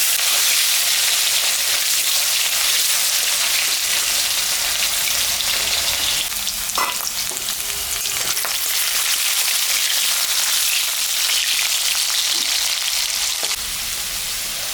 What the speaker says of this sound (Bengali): কয়েকটা আলু কাটছি ওটা আমি এখন ভাজা ভাজা করে নিব